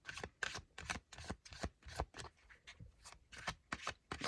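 Tarot cards are shuffled by hand in quick, close, irregular bursts of riffling and slapping for about four seconds.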